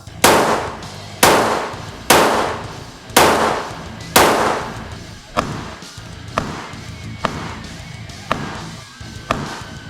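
A Glock 19 Gen 5 pistol fitted with a Demon Arms compensator fires five loud, sharp shots at roughly one-second intervals. Five fainter, evenly spaced cracks follow, and each report ends in a short ringing tail.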